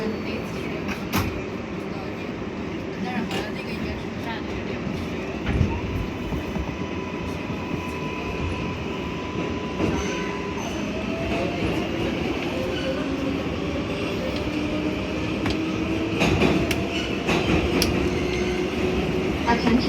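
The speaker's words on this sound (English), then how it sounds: "This is a Bronx-bound 4 express train." A New York City subway R142A 4 express train runs along the track, a continuous rumbling roar with rising and falling motor whine and occasional sharp squeals and clanks, faint voices in the car.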